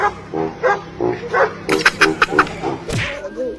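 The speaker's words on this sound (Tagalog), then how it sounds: "Sumubay yung aso sa tono ng mga bata." A dog howls and yelps along with children's singing voices, its cries rising and falling in pitch close by.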